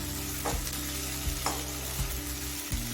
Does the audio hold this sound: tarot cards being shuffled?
no